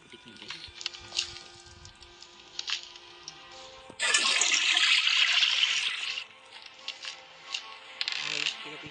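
Toilet flush in the horror game Granny Chapter 3, a broad rushing water surge lasting about two seconds in the middle, framed by faint game clicks and mechanism noises.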